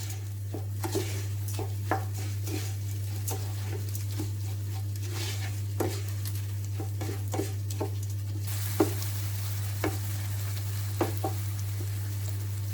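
A spoon stirs grated tomato with cumin, red chili powder, black pepper and salt as it fries in a pan, with a steady low sizzle under repeated scraping clicks and taps against the metal.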